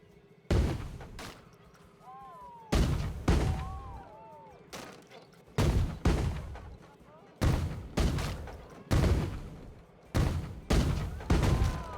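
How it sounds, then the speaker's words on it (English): Cannons in the Planet Coaster 2 video game fire as a rapid series of about a dozen loud, booming blasts at irregular intervals, with faint crackling and whistling between the shots. "Oh, there's gonna be so many cannons."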